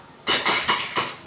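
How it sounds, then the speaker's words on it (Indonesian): A cheap chair creaks and clatters in several short bursts, loud and close, with no talking over it. "Jadi ini suara kursinya nyebelin banget ya."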